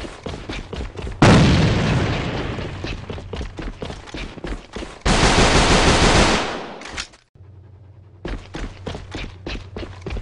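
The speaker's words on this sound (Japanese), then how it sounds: "手榴弾投擲。" Grenade blasts in the shooter game AVA, with two loud booms that each decay over several seconds, mixed with rapid bursts of gunfire, then a brief near-silence before the shots pick up again.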